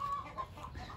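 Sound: Australorp chicken clucking

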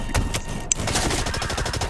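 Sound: gunfire in video game Blacklight Retribution

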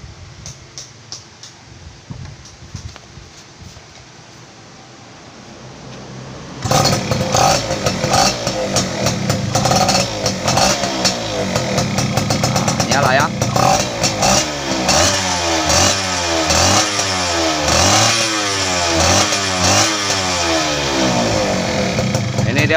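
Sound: Yamaha F1ZR motorcycle engine started and revving

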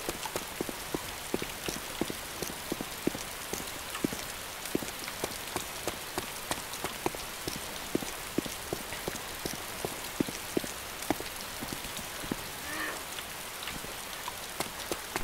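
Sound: rain in the video game DayZ

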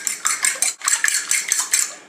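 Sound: beating eggs and water together in a bowl

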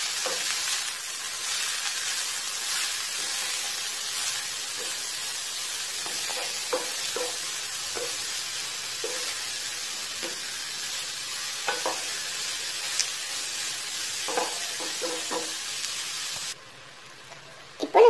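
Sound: manathakkali greens sautéing in oil

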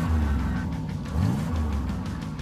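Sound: go-kart engines revving at race start

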